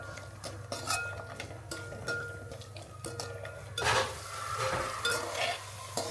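Utensils scrape and clink against a pan over a soft, steady sizzle as fenugreek laddu ingredients roast, with occasional louder stirring strokes near the end.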